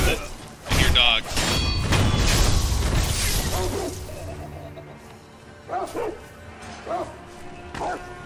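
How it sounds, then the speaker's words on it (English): Dogs barking and whimpering in the video game Sekiro: Shadows Die Twice, a loud burst of close barks and yips early, then fainter scattered yelps and whines, with a voice talking over parts of it. "I hear dogs."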